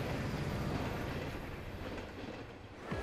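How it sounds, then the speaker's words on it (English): A locomotive hauling railway sleepers on flatbed wagons along the world's highest railway: steady, loud rumble of rolling wagons and wheels on track, continuous and close, with a faint squeal near the end and no talk. "locomotives haul the hundreds of thousands of railway sleepers to the front line of construction."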